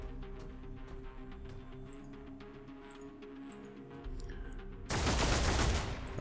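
Gunfire in the Warhammer 40K Deathwatch video game, a loud harsh burst of shots that erupts near the end after a steady humming game soundtrack.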